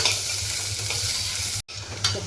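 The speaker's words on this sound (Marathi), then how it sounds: "कांदा व्यवस्थित आपण तेलामध्ये परतून घेतलेला आहे" Onion frying in oil for a spicy mutton rassa, with a steady bright sizzle and a low pan hum, one brief drop-out and a scrape of stirring near the end, close up with no speech.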